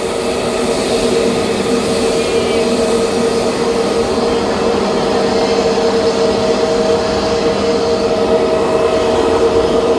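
An Ethiopian airliner takes off at Mumbai's international airport, its jet engines a steady, loud, continuous roar with a whining tone that holds for the whole stretch, with no talking.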